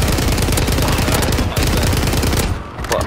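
Dense, continuous automatic gunfire from the video game Warzone, loud and rapid with overlapping bursts that barely pause, dropping briefly near the end before resuming.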